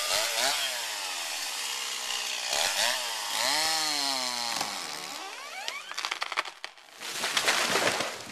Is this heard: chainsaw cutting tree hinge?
yes